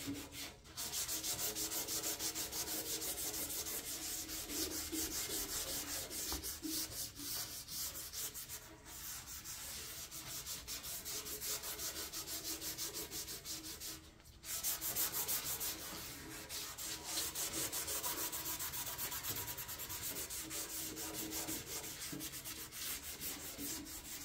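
A rusty John Deere mower deck is sanded in long, steady abrasive strokes, close and continuous, with only two brief pauses.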